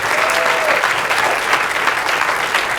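A conference audience at a climate plenary session claps steadily and loudly, with sustained dense applause and no talking over it.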